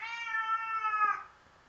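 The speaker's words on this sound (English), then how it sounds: "There's a cat. I heard a cat." A cat indoors lets out one long, drawn-out meow close by, steady and tonal before fading out, with no talk over it.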